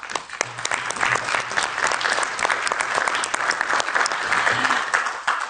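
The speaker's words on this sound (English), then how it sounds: "and we can applaud him." A parliamentary audience applauds steadily and loudly for several seconds, dense clapping filling the room without a break.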